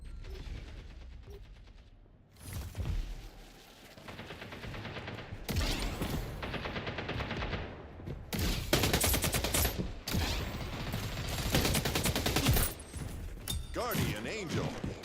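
Rapid gunfire bursts in the video game Splitgate 2, with loud fusillades and mechanical weapon clatter coming in repeated volleys, mixed with game effects and talking.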